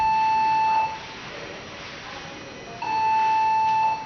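A veterinary patient monitor alarm sounds two steady, sustained electronic tones, one at the start and one near the end, separated by a quieter pause with low background hum.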